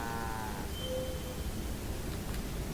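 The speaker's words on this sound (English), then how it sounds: "Yay, we're gonna hear mooing." Cattle moo in a video game, one drawn-out low call near the start over a steady ambient bed, then quieter background sounds.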